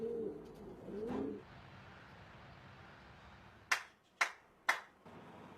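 Racing pigeons in a loft in Taiwan give a soft, low coo near the start, followed by three sharp, evenly spaced slaps or claps close by against a quiet background.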